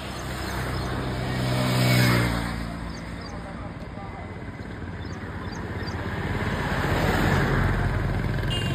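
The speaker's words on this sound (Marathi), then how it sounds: "आता गाडी पण आली।" A vehicle pulls up at the Dhandri junction, its engine swelling to a loud pass then settling into a steady rumble, while people talk over it.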